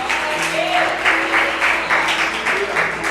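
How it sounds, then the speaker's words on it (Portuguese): Church congregation clapping in praise to the Lord during a Portuguese-language sermon, a rhythmic, pulsing applause in a reverberant hall with some background voices mixed in. "Dê um aplauso ao Senhor e glorifique a Ele"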